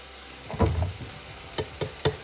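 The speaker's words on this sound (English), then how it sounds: "stirring it in, probably a 1/4 teaspoon at a time" A spoon stirs garlic powder into a sizzling orange chicken sauce, making a few short scraping and clinking strokes up close over a soft, steady background hiss.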